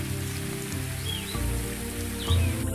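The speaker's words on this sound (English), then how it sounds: "The rain very quickly brings a close to the seemingly incessant days of heat" Rain pours down in the African bush as the wet season ends the dry heat, a steady hiss under low rumbling, with faint bird calls above.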